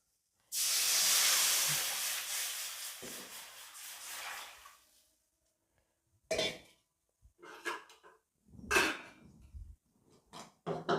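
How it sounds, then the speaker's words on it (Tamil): Rice-washing water mixed with cumin, pepper and tamarind pours steadily into a pot for rasam with a hissing splash for a few seconds, followed by scattered clinks and scrapes of utensils. "அரிசி கழுவின தண்ணியில் கரைச்சி வச்ச சீரா மிளகு புளி எல்லாத்தையும் இதில் ஊற்றிக்கலாம்"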